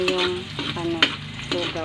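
Chopped garlic frying in a pan as a topping for lugaw, a close, loud sizzle broken by spatula scrapes and clicks, with no voices.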